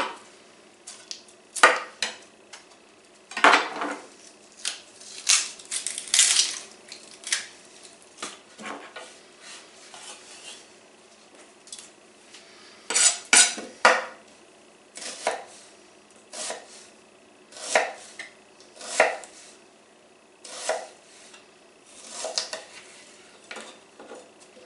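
An onion is chopped with a knife on a cutting board beside a big stock pot, a run of sharp, irregular knocks in quick bursts with short pauses between, close and clear without voices.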